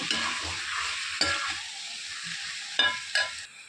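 Chicken coated in turmeric being stirred as it fries in a pan, with a steady sizzle and several distinct scraping strokes of the spoon, close and clear, no talking.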